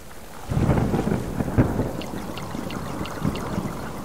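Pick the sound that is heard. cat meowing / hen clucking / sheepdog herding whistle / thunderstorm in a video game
thunderstorm in a video game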